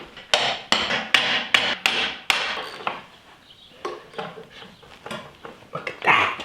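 Repeated heavy hammer blows driving stakes into the ground beside a tiny home under construction, a quick loud series of sharp whacks followed by a looser run of lighter strikes, close by.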